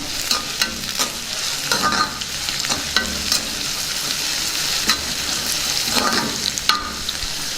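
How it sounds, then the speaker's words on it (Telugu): Green chilies, dried red chilies and curry leaves sizzle steadily in hot oil while a spoon scrapes and stirs through the pan in repeated strokes, close and fairly loud, with no talking. "కాసేపు బాగా వేగనిద్దాం"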